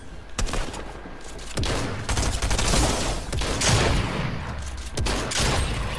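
Dense gunfire from a Fortnite match, overlapping shots and sharp cracks forming a continuous loud barrage over about six seconds, with no voices.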